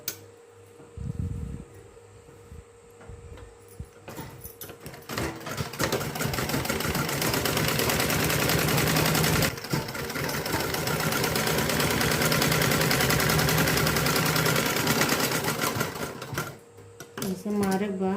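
A sewing machine stitching a blouse runs in a steady, fast mechanical whir for long stretches, pausing briefly between runs, with a voice talking over it.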